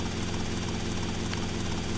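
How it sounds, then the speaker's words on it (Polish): A helicopter engine in the video game GTA Vice City makes a steady, dense rotor-and-turbine drone that does not change in level and fills the whole stretch, with no speech over it. "nie żeby później wylecieć tym helikopterem"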